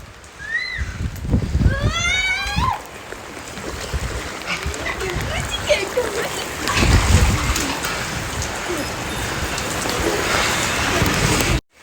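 Heavy rain with hail patters steadily across a hard rooftop, loud and close, while people talk over it and a high whistling call rises briefly.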